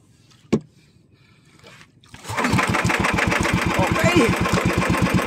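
A small fishing boat engine starts after a sharp knock and then runs at a steady, rapid, even putter, loud and close. Voices are heard around it.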